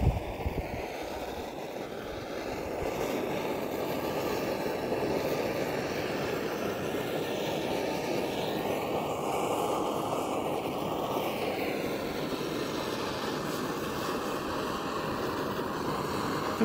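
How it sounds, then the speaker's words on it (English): MAP gas torch burning paint off exhaust headers, a steady, loud roaring hiss of flame that runs continuously and close, with no speech over it. "Burn that off. Map gas is faster,"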